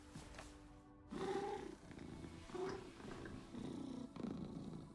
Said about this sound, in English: Oh my gosh, it's purring.